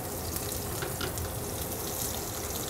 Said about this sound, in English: So you can see with this hot pan, we're already getting a nice little sear on there.